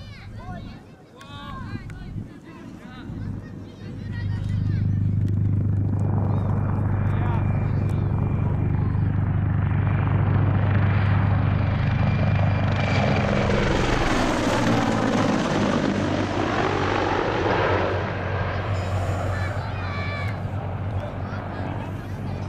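A combat helicopter flies past low and close, its rotor thump swelling from faint to a loud sustained roar and then easing off as it passes, with a voice speaking over the start.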